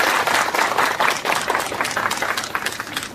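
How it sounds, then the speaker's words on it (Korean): Audience applause at a literary award ceremony, a dense, loud wash of many hands clapping steadily for about three seconds with no voices over it. "다시 한번 김일재 씨께 박수 부탁드립니다"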